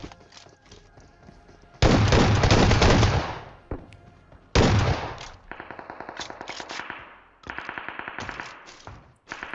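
Automatic gunfire in the BGMI battle royale game rips out in long, loud close bursts, followed by rapid rattling volleys of shots with brief gaps between them.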